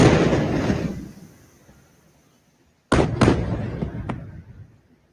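An airstrike by fighter jets on an 11-story apartment building in Gaza City: a loud, distant boom and rumble that fades out, followed by a second burst of sharp cracking blasts.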